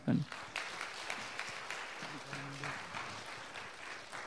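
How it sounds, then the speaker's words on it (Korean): A church congregation at an evening service applauds to welcome a pastor, producing a steady, moderately distant clapping that continues for several seconds, with a brief voice near the start. "우리 목사님 격려의 박수로 모시겠습니다"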